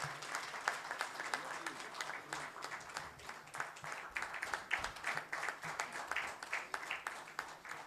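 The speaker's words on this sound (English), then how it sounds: "I request everyone to kindly give a huge round of applause." Audience applause at a felicitation ceremony, steady moderate clapping from a crowd that runs through the whole stretch with dense overlapping claps and no clear break.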